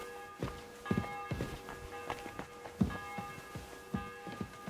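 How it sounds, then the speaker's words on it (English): A bell tolls in the Kingdom Come: Deliverance II game world, its sustained ringing tone hanging over a steady run of footsteps or hoofbeats at moderate volume. "The bell's ringing for Hans the 5th time."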